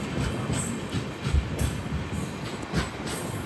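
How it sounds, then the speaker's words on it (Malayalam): Rameswaram–Mangaluru Express pulling into Paramakudi railway station, a steady low rumble of rolling coaches with a few heavier thumps from the wheels, close by and continuous, no talk. "4:58 ട്രെയിൻ ഇതാ പരമക്കുടി റെയിൽവേ സ്റ്റേഷനിലേക്ക് എത്തുകയാണ്."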